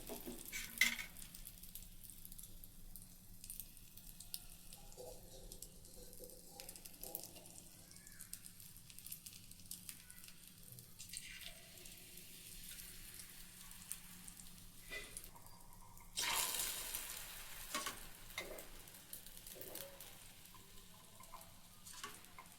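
Beaten egg mixture poured into hot oil in a pan sizzles faintly and steadily, with a louder crackling burst in the later part before settling again; no one speaks.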